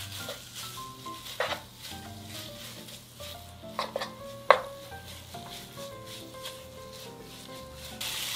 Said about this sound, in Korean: 썰어놓은 소고기 넣고 불을 중약불로 올린 후에 같이 볶아주세요